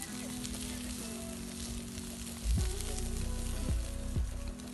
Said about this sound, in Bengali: এদিকে কিন্তু মাংসটাকে গ্রিলের উপর দিয়ে দেওয়া হয়েছে।